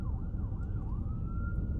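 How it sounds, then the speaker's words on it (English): A distant wailing siren sweeps up and down and then holds a steady tone, heard faintly over a constant low rumble of traffic. "The sirens going on and everything."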